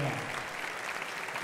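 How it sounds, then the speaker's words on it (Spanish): A concert crowd at a big band performance claps for one of the musicians, a brief burst of steady applause with a voice faintly under it. "un aplauso, para Javi"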